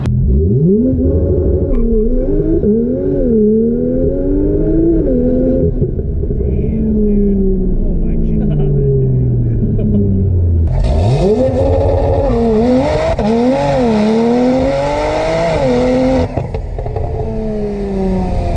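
A turbocharged Honda Civic with a stock engine launches hard and accelerates, its engine rising through repeated gear pulls, loud and close from inside the cabin over a steady rumble, with brief voices and a wind-like roar building in the later half.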